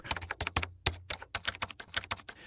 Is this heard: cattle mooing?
no